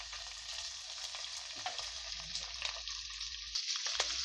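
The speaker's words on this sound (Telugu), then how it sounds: "ఆయిల్ హీట్ అయిన తర్వాత కట్ చేసుకున్న దొండకాయ ముక్కలను వేసేసుకోవాలి." Cut ivy gourd pieces fry in hot oil in a pan, a continuous crackling sizzle with scattered pops and light stirring, quiet and close, with no talk.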